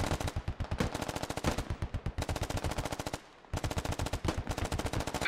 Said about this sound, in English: Sounds like they're taking some pot shots to him.